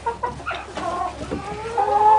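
Chickens clucking in a coop, several hens giving short, close clucks and drawn-out calls, loud and without talk.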